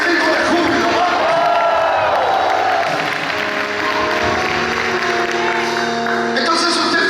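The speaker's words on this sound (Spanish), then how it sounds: "Deme ese grito de júbilo," Church congregation shouting, cheering and whooping with joy during a sermon, a loud continuous crowd roar with scattered clapping that fills the whole stretch.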